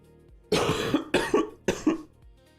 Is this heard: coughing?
yes